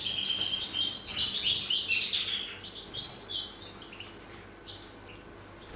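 Birds in an aviary, including opal-variety birds, chirp and twitter in quick bright bursts, loud and close at first and then thinning into sparser calls over a faint low background; no talking.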